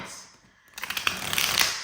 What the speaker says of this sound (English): They said do one more shuffle.